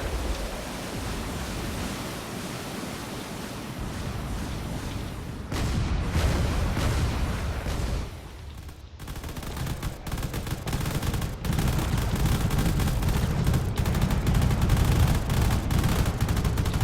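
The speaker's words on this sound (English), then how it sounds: "There's a lot of cannon fire coming from this direction." Cannon fire in a desert drone warfare video game, a dense continuous barrage of booming and crackling shots mixed into a loud roar of battle noise, sustained throughout with no voices.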